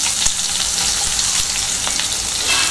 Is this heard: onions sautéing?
yes